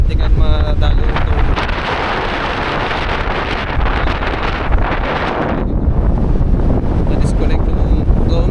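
Strong wind buffets the microphone on Patapat Bridge in Ilocos Norte, a loud, roaring rumble that stays heavy throughout and eases slightly toward the end.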